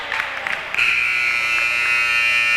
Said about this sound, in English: You hear the buzzer sound